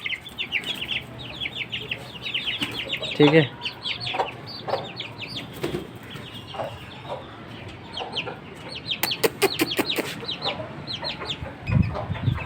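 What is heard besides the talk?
chickens and chicks clucking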